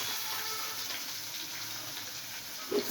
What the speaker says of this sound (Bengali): কড়াইয়ে সাদা তেল দিলাম, গরম তেলে পনিরগুলো দিয়ে দিলাম।